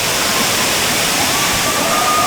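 A waterfall pours in a dense, loud, continuous rush of water, close by and unbroken, with no talk over it.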